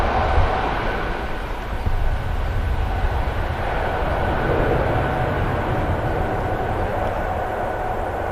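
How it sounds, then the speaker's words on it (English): An EasyJet airliner climbs away after takeoff from Manchester Airport, a steady, broad jet roar holding at a constant level throughout, distant and unbroken, with no talking over it. "Gear up on the EasyJet positive rate of climb."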